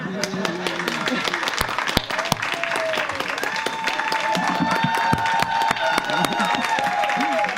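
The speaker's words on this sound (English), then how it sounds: "Y'all can keep clapping though." An audience claps steadily through a school board meeting as a football team is honored, applause filling the room with a few cheers rising over it and voices mixed in, growing slightly fuller toward the end.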